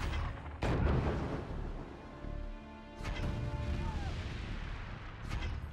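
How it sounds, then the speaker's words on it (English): Artillery bombardment in the strategy game Forts, a rumbling barrage of heavy booms and crashing impacts with repeated explosive bursts over continuous low roar, with someone talking throughout. "Now it's just nothing but bombardment."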